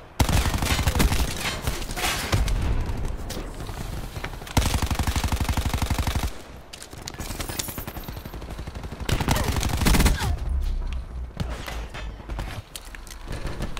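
Rapid automatic gunfire in Call of Duty Black Ops rattles in long, dense bursts. Loud sustained volleys are broken by short pauses and quieter stretches of game noise.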